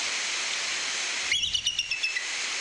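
A seagull-like bird call sound effect played during an animal trivia game: about six quick, bright, repeated chirping notes rise over a steady hiss, lasting under a second before the hiss continues alone.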